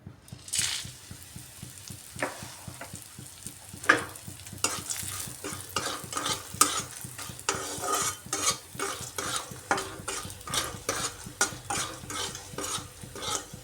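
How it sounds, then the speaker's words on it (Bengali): Small dried lentil dumplings, made from black gram and mung dal, fry in hot oil with a soft sizzle while a utensil stirs and scrapes the pan in repeated strokes. "এবার এই তেলের মধ্যে ছোটো ছোটো বড়ি ভেজে নিচ্ছি।"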